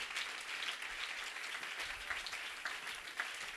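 Church congregation applauding during a French-language service, dense continuous clapping from many hands, fairly distant and even in level for a few seconds.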